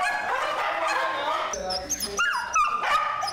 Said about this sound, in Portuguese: Eles abrigam mais de 150 cachorros